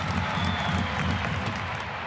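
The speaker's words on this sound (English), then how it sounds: "You can hear the crowd, they're starting to cheer." A big indoor arena crowd at a women's long jump final cheers and applauds, producing a dense, steady roar of clapping and voices that holds at a constant loud level throughout the short stretch.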